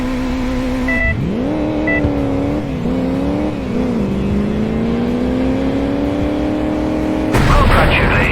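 A car chasing a remote-controlled vehicle in the Crash Time II video game, its engine revving up loudly and holding a steady pitch before a rougher burst at the end, with a voice over it.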